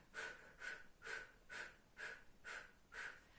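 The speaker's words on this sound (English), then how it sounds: "you're going to go these short breaths as though you're blowing out a candle on a birthday cake" Seven short, sharp puffs of breath blown out through the lips in a steady rhythm, like blowing out birthday candles, used as a labour-stage breathing technique; close and fairly quiet, with no talk over them.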